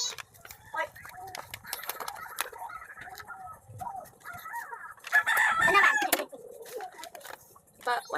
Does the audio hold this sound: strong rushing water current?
no